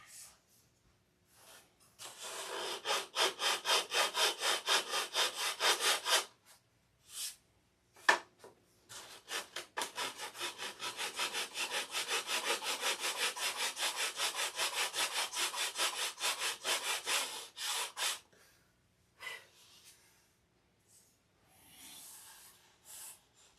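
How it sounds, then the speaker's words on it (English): A surface is sanded by hand before painting. Long runs of quick, rhythmic rasping strokes come close and fairly loud, broken by short pauses, then the rubbing trails off into a few scattered scrapes. "Need to sand her down."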